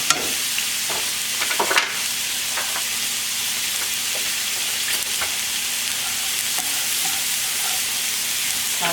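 Scallion whites and about three small garlic cloves sauté in a pan for scallops with pink peppercorn sauce, giving a steady, close sizzle with a few faint stirring clicks and scrapes throughout.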